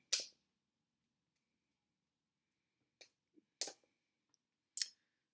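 A few crisp, isolated scissor snips, one near the start and three more spaced out later, with silence between them.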